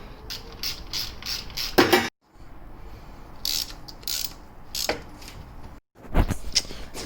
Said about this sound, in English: I've dropped the pipe down and we're just going to tighten the nuts up.